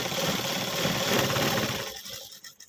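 Sewing machine stitching a kaja strip on a blouse, a fast even run of needle clatter close up that slows and stops near the end.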